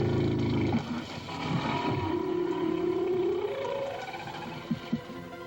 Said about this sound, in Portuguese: É o canto da baleia para atrair as fêmeas.